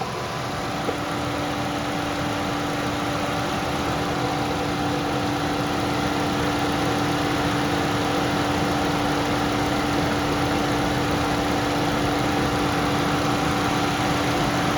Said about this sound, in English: That's why the cooling fans are on.